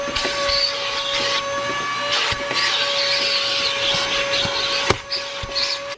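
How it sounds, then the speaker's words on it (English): Handheld vacuum cleaner running steadily while cleaning a car interior, a loud continuous whine with a few bumps and knocks as the nozzle moves around. "So I'm gonna go vacuum my car"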